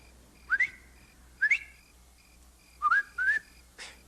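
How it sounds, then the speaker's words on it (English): A man whistles a short warning signal at a guard post, four to five quick rising two-note chirps in separate bursts, clear and close against a quiet outdoor backdrop. "If you see or hear anything wrong, whistle like this."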